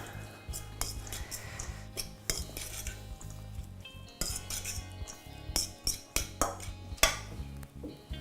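A utensil stirs chopped herbs into carrots in a bowl, giving soft repeated clinks and scrapes against the dish in a quiet kitchen.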